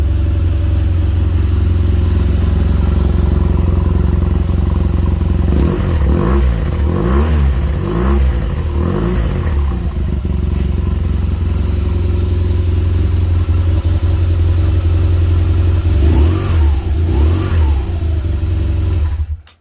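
A neglected 2010 BMW R1200GS motorcycle engine turns over and catches, then runs steadily at a loud, close idle with a few brief rises in revs.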